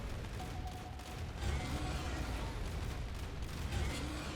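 Tanks come under attack in the video game Etherium: dense, continuous rumbling battle noise with overlapping gunfire and explosions.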